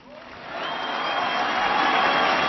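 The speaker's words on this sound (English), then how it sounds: "crowds are deafening to us standing there" A large crowd applauds and cheers a speech by President Bush, steady loud clapping that swells within the first half second and holds.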